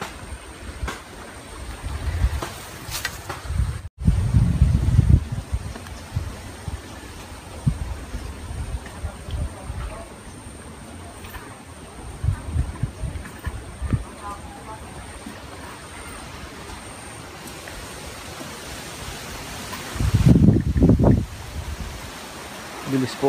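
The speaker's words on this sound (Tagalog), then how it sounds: "Bilis po ang hangin." Strong wind roars and buffets the microphone in uneven gusts during a coconut harvest in Batangas, with heavy rumbling surges rising and falling throughout.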